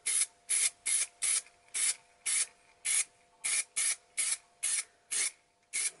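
Repeated short bursts of aerosol varnish sprayed onto the interior of a 1/24 Fujimi Ferrari F40 model kit, about a dozen hissing puffs in a steady stop-start rhythm, close and clear with brief silences between them.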